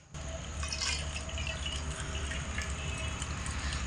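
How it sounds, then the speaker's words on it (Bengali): Water pouring from a bowl into flour for bread dough, a steady close splashing stream that runs continuously after a brief start, with no talk. "এই বাটির মাপ করে আমি একে একে 3 বাটি জল দিয়ে দেব"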